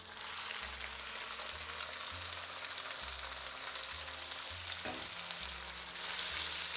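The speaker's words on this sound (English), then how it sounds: "Now keep frying the onions till they get nice and golden." Onions frying with cumin seeds and broken red chilies in a pan, a steady close sizzle with occasional stirring scrapes, no voices.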